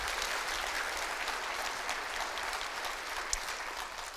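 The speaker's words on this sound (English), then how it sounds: "How about a big round of applause for AECOM?" A luncheon audience gives sustained, even applause for AECOM, a dense crowd of clapping hands heard at moderate distance throughout, with little talk.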